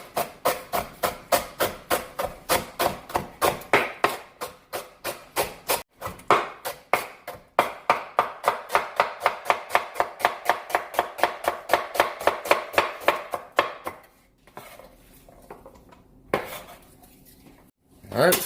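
Celery sticks being chopped finely with a knife on a board, a fast steady run of sharp close knocks for about thirteen seconds, then a pause with a few scattered taps and scraping.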